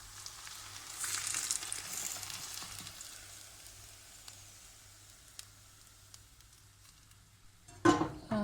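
Quiet sizzling of hot oil in a pan after onions have been fried and strained out, a soft steady crackle that swells early then fades, ending with a brief louder clatter.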